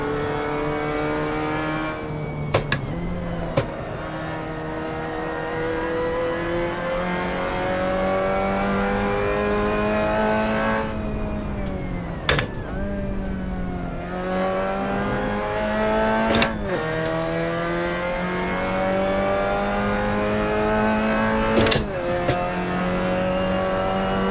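Onboard engine of an MX-5 Cup race car at Portland in a racing video game, loud and continuous, pitch rising through the gears with sharp drops at each shift and several lifts, some tire squeal, no talk.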